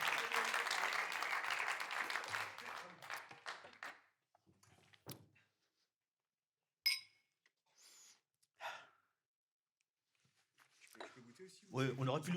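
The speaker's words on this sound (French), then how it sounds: "On peut l'applaudir" Brief burst of audience applause welcoming a guest, fairly close and lively for about four seconds, then fading into near silence broken by a few thumps and scattered voices.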